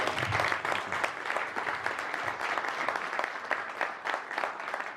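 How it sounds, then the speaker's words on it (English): An audience gives a round of applause at a Long Island real estate investors' meeting on multifamily property, steady dense clapping filling the room throughout, with scattered cheers. "First of all, round of applause for him, right?"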